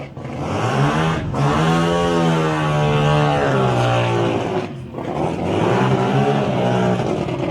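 Loud, close drag racing car at the South Coast Nationals eliminations, its engine roaring and rising in pitch through hard acceleration, dipping briefly between shifts before surging again; no talk over it.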